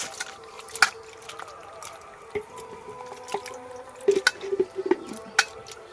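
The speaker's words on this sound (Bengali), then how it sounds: "এবার এটাকে ভালো করে ঠান্ডা জল দিয়ে ধুয়ে নেব।" Soybean chunks being washed in cold water produce soft splashes, drips and wet squishing in a bowl, irregular and fairly close, with light clinks scattered throughout.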